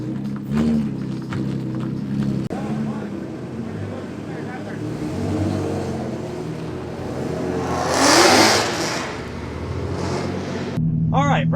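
Race car engine on a practice lap at Orange Show Speedway during the Hot Pit Autofest: loud rumbling revs that rise and fall, with a rushing swell midway and a higher whine at the close.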